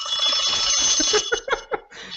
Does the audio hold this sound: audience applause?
no